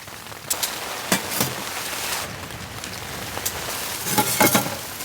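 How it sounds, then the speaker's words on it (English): Sleet and slush patter steadily on a hot tent during winter camping in cold, stormy weather. A dense hiss of soft impacts is broken by a few sharper drops close by. "it's like sleet and slush hitting the tent"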